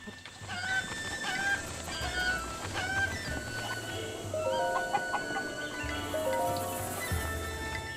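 Clucking from a chicken in the video game Zelda: Breath of the Wild, a string of short clucks riding over looping game music and ambient sound at steady moderate loudness.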